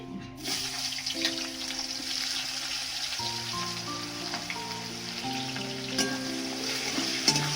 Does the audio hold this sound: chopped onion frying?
yes